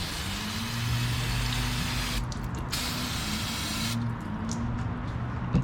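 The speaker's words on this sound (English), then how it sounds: "Let's go ahead and hit this bad boy up with some brake clean" Brake cleaner hisses in a steady, continuous spray onto a Mazda 3 CV axle, loud and close, with short breaks in the higher hiss and a low mechanical hum underneath.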